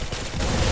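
Gunfire in the Roblox shooter Arsenal, a loud, dense burst of rapid game shots that runs through the whole short moment, with a low rumble swelling toward the end.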